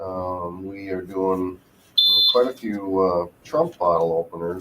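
A short, shrill electronic alarm beep from a heat press that has finished heating sounds once, loud and piercing, cutting in over someone talking steadily.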